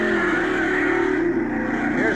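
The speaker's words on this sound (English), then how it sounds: "Here's another twin Chevy-powered dragster." Twin Chevy-powered dragster at a 1958 NHRA drag racing championship, a loud steady engine roar that holds throughout the short stretch, with a faint voice beneath it.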